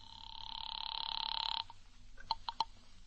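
An old-style telephone rings in a long buzzing burst, followed by a couple of short clicks as the line is picked up, faint and slightly muffled like a vintage radio drama effect.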